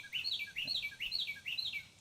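A small bird chirps alone in a quick repeating pattern of four rising-falling high tweets, clear and fairly close over a quiet background.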